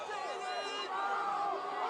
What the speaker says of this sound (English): Delran fans really excited here about these T-shirts.